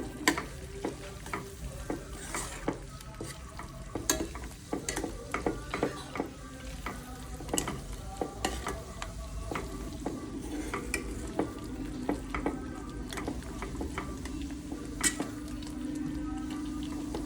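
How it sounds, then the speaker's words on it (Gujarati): Cumin seeds and a half spoon of sugar crackle and sizzle in hot oil for a sev tameta curry, with a spoon scraping and stirring the pan in steady strokes, close and with no talking. "જીરું નાખીશું અને અડધી ચમચી ખાંડના દાણા નાખીશું પછી આપણે હલાવીશું"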